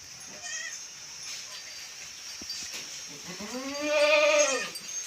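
A single loud, wavering billy goat bleat close up, rising and then falling, after a stretch of quiet background with faint voices, at a goat shed.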